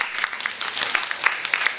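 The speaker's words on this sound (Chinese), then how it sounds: "掌声再给他们鼓励一下" An audience at a memorial event claps steadily, a dense, close patter of many hands that continues evenly for a couple of seconds.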